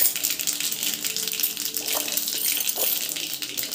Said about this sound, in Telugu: ఆవాలు, ఇక జీలకర్ర, మినపప్పు వేసుకుంటున్నాను